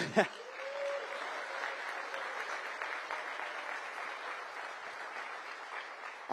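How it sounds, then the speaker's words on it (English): Audience applause at a campaign rally in Richmond Hill, a steady wash of many hands clapping at moderate distance that holds evenly for several seconds, with a brief voice at the start. "I hear real claps."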